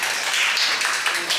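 Brief applause from the audience at a Korean social economy policy forum as a speaker is welcomed onstage, a dense patter of clapping close by with no clear talk over it.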